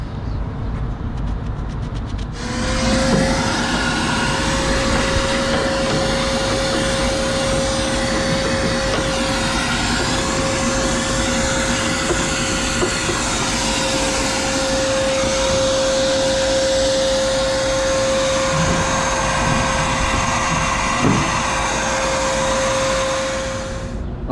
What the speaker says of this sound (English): While I'm here, I'm also gonna vacuum up the evaporator section because honestly there's a lot of dirt here.